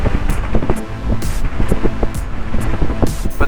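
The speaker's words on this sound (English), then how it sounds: "So at 100k an hour I do feel a little bit of wind buffeting on my arms." Wind buffets and rushes steadily past a Honda DCT motorcycle cruising at 100 km/h, with a low, broadband roar and brief gusty bursts throughout.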